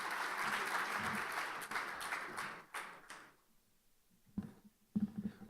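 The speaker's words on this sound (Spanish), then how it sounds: "Un aplauso." Audience applause at a conference on urban rail transit in Latin America, dense steady clapping for about three seconds that then fades out, with a few scattered claps afterwards.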